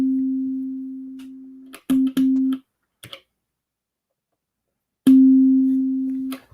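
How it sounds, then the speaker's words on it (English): A Digitone FM synthesizer holds a plain sine-wave tone with the chorus switched off, sounding in several sustained bursts that fade slowly, separated by sharp clicks of knobs and buttons and a short silent gap. "let me turn the chorus off so we're just hearing the straight sound of the sine"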